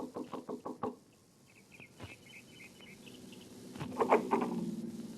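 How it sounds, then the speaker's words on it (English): Several sharp knocks on the door of a small house, a quick cluster of about five raps at the start, followed by quiet room tone and then a louder scuffle of movement near the end. "knocked at the door of a small house 15 minutes after she arrived home that evening."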